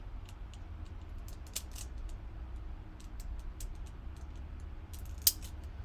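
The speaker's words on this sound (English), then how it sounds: "you can get your scallop scissors or your decor scissors, whatever, and you can just redo" Scallop-edged craft scissors trimming a decorative edge for sequin flowers, giving a series of soft, close snips at an uneven pace and one sharper click near the end, with no voices.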